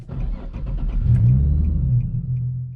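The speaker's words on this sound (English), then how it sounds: "So if I start it back up," Infiniti G37 engine starting up and settling into a loud, close, deep rumble that swells and holds steady for a few seconds, with no talking.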